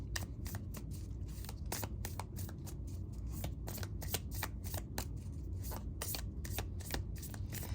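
Love Oracle tarot-style cards shuffled continuously, a steady run of crisp riffling flicks and slaps close up, with no talking.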